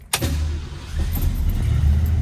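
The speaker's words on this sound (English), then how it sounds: "Let's go ahead and start the car up." A 1968 Ford Mustang hardtop with a 289 V8 cranks briefly and fires, settling into a loud, close, rumbling idle that builds slightly toward the end.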